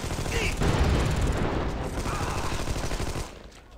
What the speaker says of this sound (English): As he's firing, he was shooting at me.